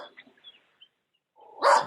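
A neighbor's dog barks once from a distance in an otherwise quiet outdoor setting, preceded by a few faint chirps and small sounds.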